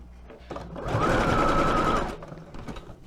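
Sewing machine stitching lace onto a rag doll's dress, a close, loud, steady whirring run of about a second with quieter handling noise before and after.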